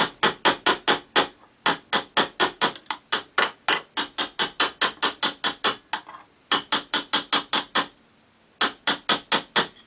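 A copper tube end being rounded off with a hammer, sharp rapid metallic blows in quick even bursts with brief pauses between runs, loud and close with no talk.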